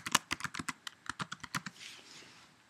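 A password typed on a computer keyboard: a quick close run of about a dozen light key taps, evenly paced, that trails off into quiet.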